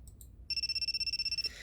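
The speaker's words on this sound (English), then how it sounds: "There's an incoming call from God." A cell phone rings with an incoming call inside the horror game YOU and ME and HER, a steady electronic trill pulsing in rapid even beats for about a second before cutting off.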